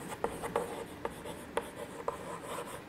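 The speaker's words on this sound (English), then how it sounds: "here I am going to write" Chalk tapping and scraping on a board during a Class III maths lesson on subtraction, in short evenly spaced strokes close by, with no talking over it.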